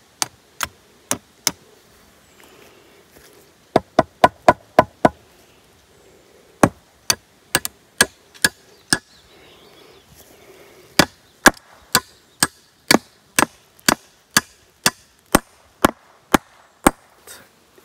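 Sharp, ringing hammer blows drive a fence staple into a wooden electric-fence post in irregular bursts, several quick hits at a time with short pauses between, close by and otherwise quiet.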